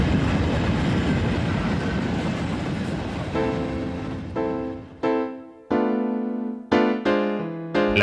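A train runs on rails with a steady broadband rumble, then a series of loud, ringing tonal screeches or horn-like blasts cut in and out in repeated bursts, with no talking.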